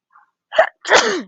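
A single sharp sneeze, preceded by a quick intake of breath, loud and close with silence around it.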